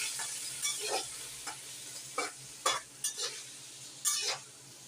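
Seafood sizzling in a hot pan, a steady hiss broken by several sharp crackling bursts and stirring scrapes, close and fairly loud, with no talking.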